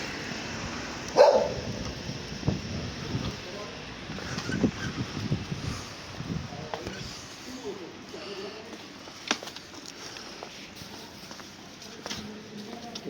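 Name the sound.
dog barking excitedly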